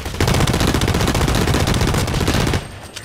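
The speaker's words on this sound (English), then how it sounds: "I'm gonna take this submachine gun." Sustained, loud, rapid automatic submachine gun fire in the game Blacklight, a dense continuous burst for about two and a half seconds before it cuts off.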